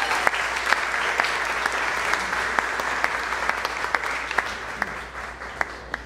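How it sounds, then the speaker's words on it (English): An audience gives a steady round of applause, a broad wash of many hands with a few sharper nearby claps standing out, continuing evenly for several seconds. "can we give them a big round of applause?"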